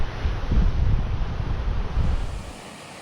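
Waves rolling onto September Beach in Lincoln National Park, a broad low surf roar mixed with wind buffeting the microphone, swelling and easing before fading toward the end, no talk.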